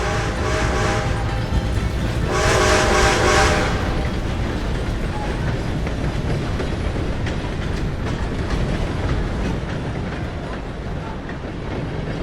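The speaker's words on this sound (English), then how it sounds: "Gotta beat that train, Morgan!" A steam-era train in Red Dead Redemption 2 rumbles and clatters steadily along the rails, loud and close, with a brief hiss-like burst early on and no talking.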